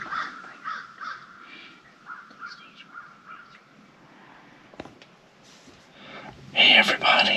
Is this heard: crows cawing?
yes